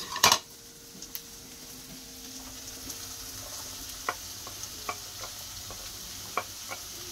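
Potatoes and onions frying in a pan, a steady soft sizzle with occasional light taps and scrapes of stirring, starting with a sharp clatter.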